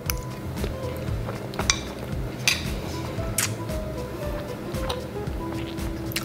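A spoon scoops through French apple cake with its browned, crispy top and ice cream, giving soft clinks and scrapes against a plate, close and fairly quiet with a few sharper taps, amid steady low background noise and no talk.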